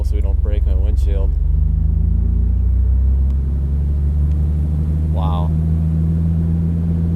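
A Jeep TJ rolls slowly with its windshield folded down. A steady, close, low engine rumble and open-air wash run throughout, and a voice speaks briefly at the start and again midway.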